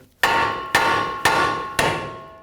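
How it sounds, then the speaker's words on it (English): A hammer strikes a metal part to knock it loose, four sharp ringing blows spaced about half a second apart, each fading into a metallic decay, close and loud with no talk. "you can use a special tool to remove these, but just use a hammer"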